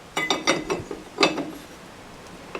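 Large spanner ratcheting on the crank pulley of an International 434 tractor during a belt change, a quick series of metallic clicks in two short bursts, close and clear, followed by quiet.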